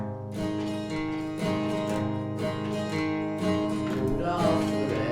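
Acoustic guitar strumming a song, bass notes alternating with chucked accent chords, in a steady, bouncy rhythm; close and full, continuous without speech.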